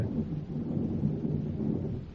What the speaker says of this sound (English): The storm, the rain.